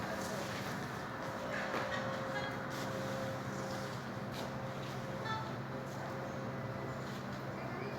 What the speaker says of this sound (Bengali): এই দেখুন মেট্রো হয়ে গেছে আমাদের হাওড়া যাওয়া মেট্রোটা